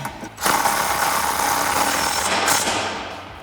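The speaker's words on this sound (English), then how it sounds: "take my gun with my 16mm socket, tighten the top one up first" An impact gun with a 16mm socket runs up a running board nut on a 2021-2023 Ford Bronco, giving a loud, steady whirring buzz after a short start that lasts about three seconds and fades slightly at the end.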